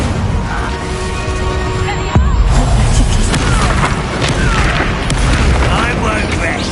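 An Incendio fire spell bursts in a Harry Potter video game, a loud booming whoosh after a couple of seconds, followed by crackling impacts and scattered thuds, with game voices and effects layered over a busy soundtrack.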